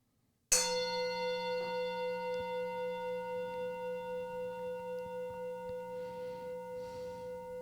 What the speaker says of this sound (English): I'm going to sound the bell 1 time.